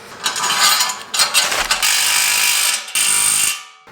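A ratchet tightens an exhaust clamp on a gasser: several close, loud bursts of rapid clicking, separated by short pauses, with no talking.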